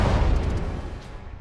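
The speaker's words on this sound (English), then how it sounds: "Torpedo to the bow." A torpedo striking a warship's bow in a naval battle game, heard as a dense low rumbling blast that stays loud and muddy through the whole moment before slowly easing off.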